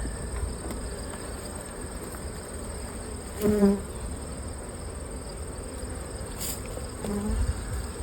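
Honey bees buzzing around an open hive colony with honey frames, a steady soft hum with a few louder buzzes as single bees pass close.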